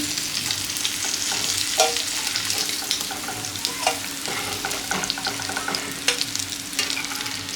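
Prawns sizzling in hot oil for a prawn chop, a continuous close frying hiss dotted with sharp pops and occasional utensil scrapes as the pieces are turned and lifted, with no voices.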